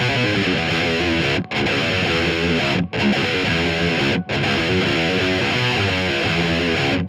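Double-tracked electric guitar riff through a Soldano SLO 100 amp pushed into overload, thick and distorted, playing steadily with three brief dropouts between phrases, loud and alone.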